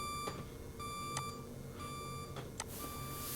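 A computer beeps repeatedly in evenly spaced high electronic tones, each followed by a pause. A few sharp clicks fall between the beeps, and nobody speaks.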